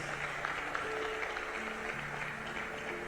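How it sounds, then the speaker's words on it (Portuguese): Church congregation applauding together after a scripture reading at Mass, a steady dense wash of clapping that carries on evenly throughout, with faint voices or organ tones underneath. "Vamos aplaudir a palavra de Deus."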